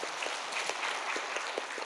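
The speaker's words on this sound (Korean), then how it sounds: "하나님께 영광의 박수를 올려드리겠습니다." Congregation applause during a Wednesday evening church service, faint and fairly steady clapping heard from a distance, with no voices over it.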